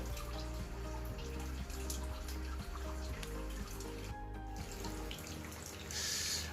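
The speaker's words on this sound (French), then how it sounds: "le NFT déverser son eau, comme c'est le cas ici, dans le bac à marée chez ce superbe cresson fontaine" Water pours steadily from an aquaponics NFT channel into a tidal tank planted with watercress, a continuous close splashing and trickling that runs without pause and with no voices.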